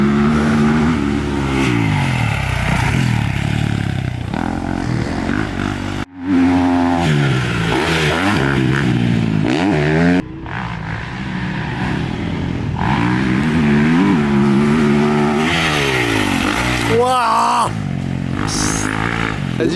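2024 Kawasaki 450 KXF motocross bike, loud and close, revving repeatedly with rising and falling engine pitch through gear changes and brief throttle cuts as the machine rides past, with no talk.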